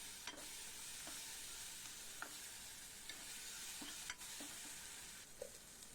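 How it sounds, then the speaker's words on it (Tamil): Bitter gourd curry ingredients being sautéed and mashed into a paste in a pan, giving a steady soft sizzle with occasional scraping and tapping of a spoon against the pan, with no one speaking. "நல்லா பேஸ்ட் மாதிரி நல்லா வதக்குறோம்"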